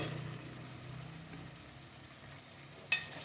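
Half a kilo of mutton frying with softened onion and tomato for aloo gosht shorba, a low, quiet sizzle that fades slightly, ending in one sharp clatter near the close; no talking.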